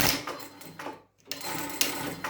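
A sewing machine back stitches a seam on a disposable coverall suit, two close, loud bursts of rapid stitching split by a brief silent pause.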